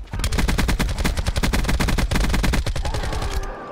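Loud sustained automatic gunfire in Call of Duty: Black Ops 4, a fast steady stream of sharp evenly spaced shots close up, stopping near the end with a faint tail.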